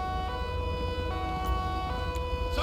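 A wailing ambulance siren sounds continuously in GTA 5 over a low, steady vehicle engine rumble, with no one speaking.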